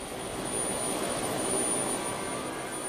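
Helicopter engines running during a nighttime hospital evacuation flight after Hurricane Katrina, a steady, loud turbine drone with a high whine above it, continuous and unbroken.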